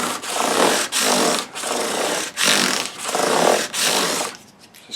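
Full-length strokes of 600 grit sandpaper on a Squier Telecaster parts-caster guitar body: about six steady, close, hissing rubs in a regular back-and-forth rhythm with brief gaps between passes, fading at the end.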